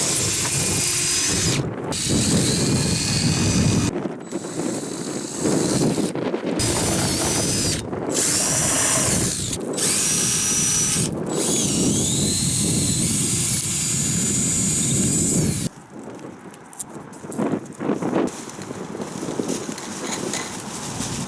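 A power drill whines loudly in repeated bursts, spinning up and cutting out with short pauses, then a rougher grinding stretch near the end.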